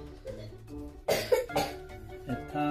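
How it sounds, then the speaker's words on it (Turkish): A child coughs during a doctor's checkup, with a short burst of two or three close coughs in the middle after quieter room sounds and faint murmuring. "Bir kez daha öksürür müsün?"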